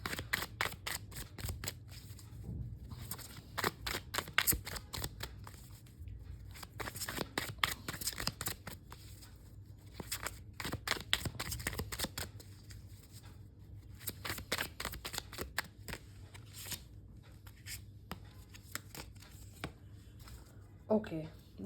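Tarot cards being shuffled by hand, repeated soft riffling and flicking bursts with brief pauses, close and quiet, a voice speaking faintly at times in between.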